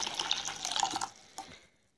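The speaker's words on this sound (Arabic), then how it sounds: "هنجيب مية دافية ونحطها في طبق زي ده" Warm water pours steadily into a dish for about a second, a splashy trickle close by that thins out and stops, ending in a small drip or clink.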